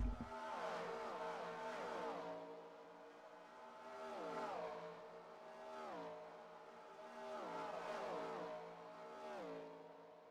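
Race cars roar past one after another in a racing video game, each engine note swelling and dropping in pitch as it flies by. The passes come in repeated waves of steady, loud engine noise.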